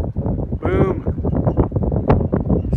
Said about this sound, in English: Sky's clearing up, but I think it's too windy